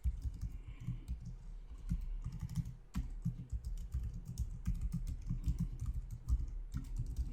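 Fingers tapping on a computer keyboard, quick irregular clicks in short flurries with brief pauses, close and fairly quiet, no talking.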